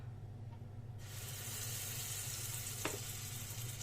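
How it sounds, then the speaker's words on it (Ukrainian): Potato pancakes frying in oil give a steady, loud sizzle that starts abruptly after a second, with a brief clink partway through. "щоб смачні були, треба в добре в олії смажити."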